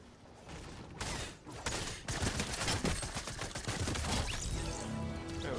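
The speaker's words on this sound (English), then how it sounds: "Let's get an SMG kill, guys." Rapid SMG gunfire in Fortnite, with dense bursts of close, loud shots that start after a quiet opening and continue almost without a break to the end, with no voices.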